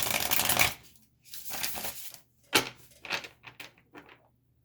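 Tarot cards being shuffled by hand in a quiet room, several short riffling bursts and soft slides with small pauses between them, close and fairly quiet.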